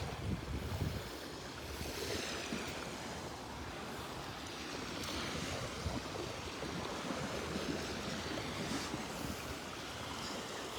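Ocean surf washes steadily onto the beach at Delnor-Wiggins Pass State Park on a morning walk, a constant roaring rush of breaking waves mixed with wind buffeting.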